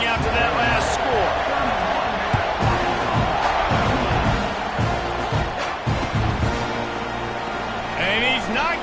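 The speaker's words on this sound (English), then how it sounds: "this crowd is buzzing after that last score." Dense stadium crowd at a college football game between Arkansas and Texas A&M keeps up a loud, steady buzzing roar after a touchdown, with a commentator talking over it.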